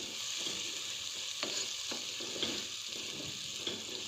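Chopped tomatoes with salt cooking in a pan, a soft continuous sizzle with occasional clicks and light stirring knocks, quiet and close.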